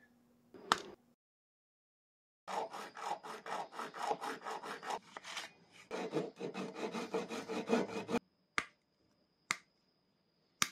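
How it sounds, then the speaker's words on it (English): A hobby saw cuts hard plastic pieces in quick, rhythmic rasping strokes, close by, followed by a few sharp isolated clicks. "What worked in the end was a combination of my hobby saw and snips there."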